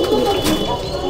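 Pigeons in a loft give a soft, throaty coo, close and clear, a single rolling call against a quiet background.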